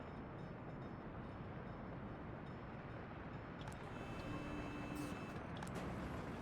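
A train departing in the city-building game Workers & Resources, a steady low rail rumble with faint higher squeals and clacks, continuous and fairly quiet throughout.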